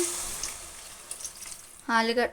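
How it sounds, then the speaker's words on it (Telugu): Water is added to a pan of potatoes being cooked with tomato, a faint running trickle and light sizzle, with a voice speaking briefly near the end. "ఇప్పుడైతే ఇందులోకి కొద్దిగా వాటర్ వేసుకున్నాము."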